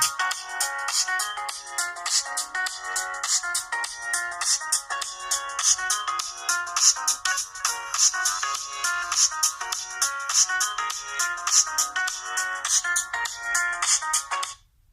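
Music plays through a Blu Life Max phone's small, thin-sounding speaker, bright and tinny with no bass, steady at moderate volume throughout.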